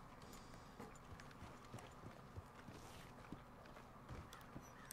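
Horse hooves clip-clopping in Red Dead Redemption 2, a steady walking rhythm of soft, fairly close hoof strikes continuing throughout with light background ambience.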